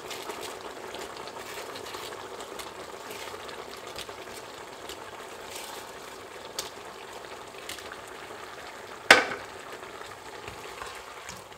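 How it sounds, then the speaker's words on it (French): Malaysian-style shrimp noodle sauce sizzling and bubbling in a pan: a steady, close frying hiss throughout, broken by one sharp clack of a utensil against the pan. "je mélange et je vais laisser cuire une minute"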